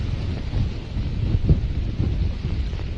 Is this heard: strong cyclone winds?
yes